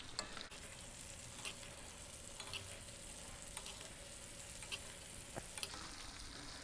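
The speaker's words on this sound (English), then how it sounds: "Just continue to baste." Ribeye steak sizzling and being basted in a cast iron skillet, a steady crackling fry with small spoon scrapes and spatters throughout, fairly quiet and close, no voices.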